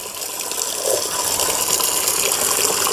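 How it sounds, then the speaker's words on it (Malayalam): Water pours steadily into a container being filled to dilute a treatment mix, a continuous close gushing splash that grows slightly fuller partway through, with no talking. "എന്നിട്ട് നമ്മൾ അവനെ ഒന്നുകൂടെ ഡൈലൂട്ട് ചെയ്യും, നിറച്ച് വെള്ളമൊഴിക്കും."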